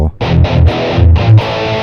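Electric guitar played through an Electro-Harmonix Tone Tattoo with its distortion toggle on the low setting, a run of loud, buzzy overdriven notes separated by short breaks, close and alone.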